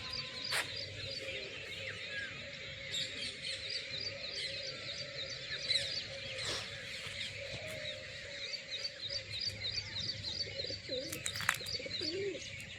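Pigeons coo repeatedly from a house rooftop, soft throaty calls mixed with chirps and tweets of other birds in a steady outdoor chorus, with no talking.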